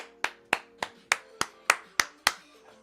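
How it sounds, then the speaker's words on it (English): One person clapping eight slow, evenly spaced claps, loud and close, over a faint sustained tone while celebrating Manchester City's 7-0 win over Leeds. "give him a round of applause"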